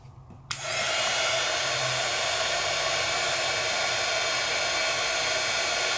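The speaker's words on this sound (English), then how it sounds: "And let's heat set that so that now my silver will be completely embossed. All right, so heat tool." A handheld heat tool blows steadily to melt silver embossing powder on a stenciled craft project, switching on abruptly near the start and then holding a loud, constant hiss close by with no talking.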